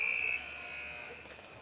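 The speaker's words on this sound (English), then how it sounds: "The buzzer has sounded." A hockey rink buzzer sounds, a loud, flat electronic tone that cuts off after a fraction of a second and leaves the echoing rink hum behind it.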